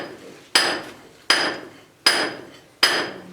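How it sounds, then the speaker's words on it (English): A single jack hand hammer strikes hand steel held against rock in a silver mine, four sharp metallic blows at a steady, unhurried pace, each ringing briefly before fading, with no voices. "One guy working by himself had a smaller hammer called a single jab."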